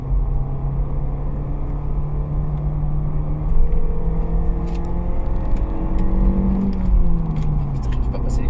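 Ford Kuga E85 ethanol car driving with a steady engine hum from inside the cabin, revs rising and falling through gear changes, with a faint rumble of road noise underneath.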